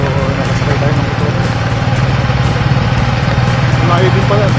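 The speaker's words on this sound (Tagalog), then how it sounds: "So, nakasakay tayo ng motor." A motorbike on a ride through Isabela de Basilan, Mindanao, keeps up a steady, close mid-pitched engine drone throughout. A voice talks over it.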